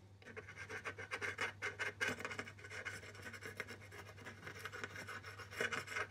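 400 grit sandpaper rubs briskly back and forth over the frets of an acoustic guitar in rapid scratchy strokes, close and quiet, over a steady low hum.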